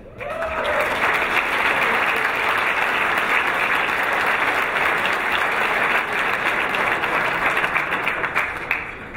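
Audience at a Calgary football awards ceremony applauds and cheers for Russ Jackson, former Ottawa Rough Riders quarterback, with sustained, loud, dense clapping and occasional whoops lasting several seconds.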